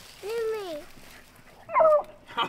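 Beagles on a Mississippi rabbit hunt give two short bursts of high, whining yelps, the first a drawn-out rising and falling cry, the second sharper, close by over a quiet outdoor background.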